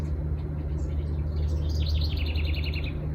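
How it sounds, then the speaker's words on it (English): Bird chirping close by outdoors at sunset, a run of quick bright tweets that grows clearer partway through, over a steady low hum of background noise. "Oh, there's a bird that's close now."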